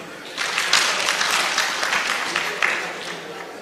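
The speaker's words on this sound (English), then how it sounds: "Give them a clap" Delegates at a plenary session of a general assembly give a round of applause, a full steady clatter of many hands that swells slightly and carries on without a break.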